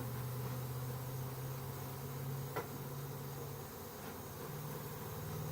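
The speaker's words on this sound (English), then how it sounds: "they're killer bees just trying to attack me." Africanized killer bees buzz around an open hive near a pollen collection box, a faint, steady drone with a sustained hum and occasional passing individual bees, with no talking.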